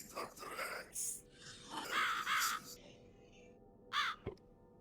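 Several hoarse caws from a crow in the horror video game The Cat Lady, coming as short repeated bursts with a sharp click near the end, set against a dark ambient background.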